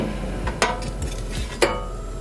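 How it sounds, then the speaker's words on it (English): A hash brown fries in a pan for breakfast, a soft steady sizzle with two sharp clinks of a utensil against the pan, heard close with no talk. "And then for breakfast I have a hash brown frying."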